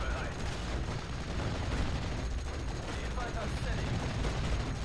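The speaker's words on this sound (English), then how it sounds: "So now he's shooting at a 6-pounder, which is missing." Gunfire in the Steel Division World War II strategy game, with units shooting at a 6-pounder anti-tank gun: a continuous wash of distant shots and rumbling battle noise, with a commentator talking over it.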